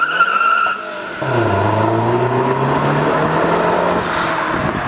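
A car takes off on launch control with its tires peeling and squealing, a loud rising engine roar and shrill tire screech up close, ending in a sharp burst, with no talk.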